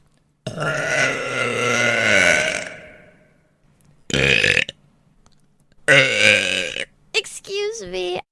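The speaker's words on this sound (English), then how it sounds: "Excuse me, I burped." A woman's loud, drawn-out burp with a grunting, voiced tone, followed by two shorter burps and a brief vocal sound, each alone with silent gaps between.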